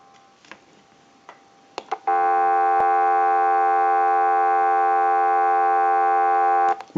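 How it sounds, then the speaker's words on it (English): A TA-1042 military field telephone produces a steady, loud dial tone lasting several seconds, preceded by a few clicks and ticks from handling or switching. "We'll go ahead and give you some dial tone."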